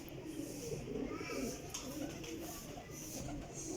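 A pigeon coos softly, low, faint murmuring calls against a steady background hum.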